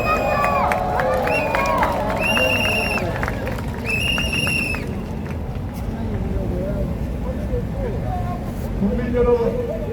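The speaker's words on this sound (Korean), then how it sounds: "박수" A large outdoor crowd at a rally for a special counsel bill, cheering and clapping as a party leader comes to the stage, loud and sustained, with an announcer's voice and stray shouts over it.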